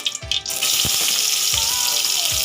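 Onions frying in oil in a pan for gobi manchurian, a steady loud sizzle that fills the sound after a few soft knocks at the start.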